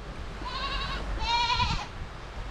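Two drawn-out goat bleats sound close by, one after the other. Low rumbling background noise sits underneath, and no one talks.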